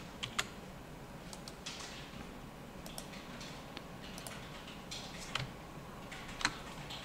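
Code being typed on a computer keyboard: quiet, irregular clicks and taps close by in a still room, with a few sharper key strikes standing out.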